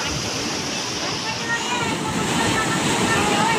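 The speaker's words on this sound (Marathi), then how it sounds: "अक्षरशः समुद्राचं स्वरूप आलेलं आहे आणि बघू शकता गुडघ्या एवढं पाणी अंगणात होतं आहे" Knee-deep seawater floods a house courtyard in a coastal fishing village (koliwada), making a continuous, loud rushing and sloshing wash that stays steady throughout.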